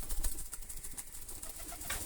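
Rajshahi Giribaz roller pigeons coo softly at a home loft, a few low murmuring calls over a noisy background, with no speech.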